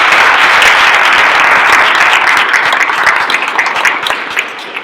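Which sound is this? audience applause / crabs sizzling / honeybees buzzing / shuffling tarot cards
audience applause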